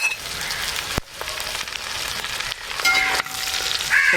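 Beef pickle masala with curry leaves sizzles and crackles steadily in a pan as it is stirred, with occasional scraping and clinks of the spoon against the pan and no voices.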